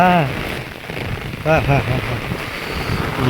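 Heavy rain pours down steadily in a broadband wash, with excited voices talking and laughing over it.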